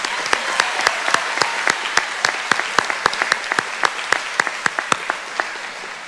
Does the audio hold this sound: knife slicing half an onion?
no